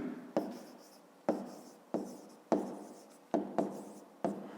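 Handwriting during a fifth-grade maths exercise: a pen strikes and scratches across paper in about eight separate strokes, each a sharp tap fading into a brief rasp, close and quiet.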